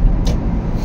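A car drives fast along a highway at about 140, its loud, steady low road and engine roar filling the cabin with a brief whooshing swell partway through.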